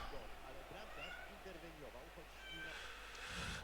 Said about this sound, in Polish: Oj, kotek mi miał.